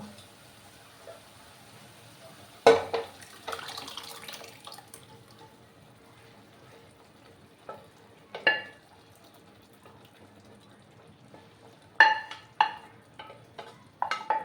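Cooked lentils (dal) poured into a pan of lau shak, a vegetarian Bengali dish, giving sporadic wet splashes and clatter in a few separate bursts against a quiet kitchen background, with no speech.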